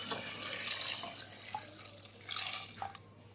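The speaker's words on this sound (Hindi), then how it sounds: "ये मैं इसमें पका हुआ पानी डालूंगी, ठंडा पानी नहीं डालूंगी" Hot boiled water poured into a pot of mutton paya, a brief close splashing pour that swells twice, with drips between.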